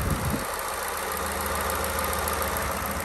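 A truck engine fitted with a Whipple supercharger idles steadily and loudly, a dense continuous rumble with a slight knock throughout and no talking.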